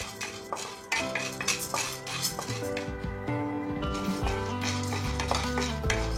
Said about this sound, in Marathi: हाफ कप डाळे छान असे भाजून घ्यायचे. हे पण लो फ्लेमवरतीच आपल्याला भाजायचे आहेत.